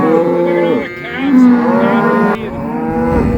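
Black Angus cows on a foothills ranch bellow in long, loud, sustained moos, one call running into the next as the mothers search for their calves during a branding-day roundup.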